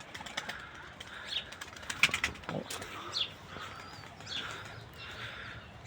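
Pigeons feeding on the ground with scattered bursts of wing flapping and light shuffling, faint and at moderate distance, with brief soft calls and a quiet outdoor background.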